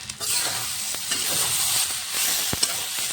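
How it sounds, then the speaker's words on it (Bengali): Ginger-cumin paste frying with potatoes and kochur loti in a pan, a close hissing sizzle broken by stirring scrapes and a few sharp clacks. "আদা জিরে বাটা দিয়ে কিছুক্ষণ কষিয়ে নেব"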